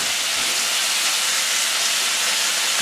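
Venison steaks sizzle in a hot pan, a steady close, loud bright hiss of frying that stays constant throughout.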